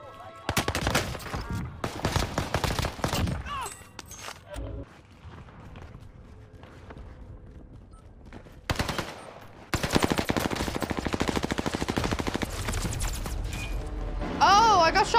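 Gunfire in the Call of Duty game on Rebirth Island, loud rapid bursts of automatic weapon fire broken by short quiet gaps, with a voice talking at times among the shots.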